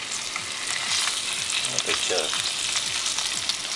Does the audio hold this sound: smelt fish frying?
yes